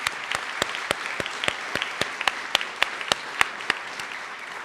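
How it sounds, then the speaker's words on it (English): Scattered clapping from a small group at a graduation ceremony, sharp individual claps ringing out in an uneven rhythm against a quiet room. "a round of applause for their team"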